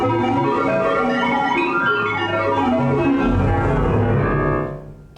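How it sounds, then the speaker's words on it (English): Korg Kronos keyboard played through a frequency shifter effect: dense, continuous synth tones with layered harmonics and sweeping, shifting pitches, loud and steady before fading out at the end, with no talking. "Turn on the frequency shifter again."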